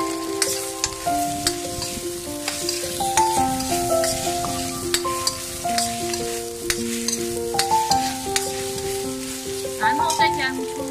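Prawns stir-fried in a wok for egg fried rice crackle with scattered spatula clicks, half-buried beneath steady melodic background music for the full length.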